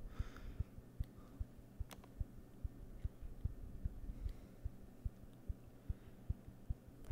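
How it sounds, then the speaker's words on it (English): Persistent heartbeat sound effect in the VR game Blade & Sorcery, a low regular thumping pulse repeating about twice a second over a quiet hum, with a few faint clicks in between. "this persistent heartbeat sound, it does give me a headache"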